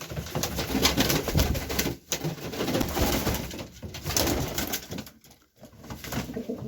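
Pigeons, Roman giants among them, coo steadily and close by amid scuffling and flapping as they fight, with brief pauses in the busy, continuous bird sounds.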